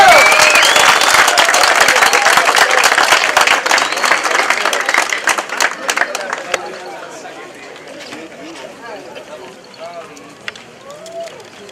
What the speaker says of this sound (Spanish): ¡Ese fuerte aplauso para nuestro amigo Fidel!